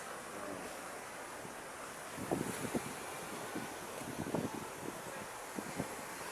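Sea waves wash in at an ocean resort, a soft steady surf rush with wind buffeting the microphone and a few low thumps, no talk.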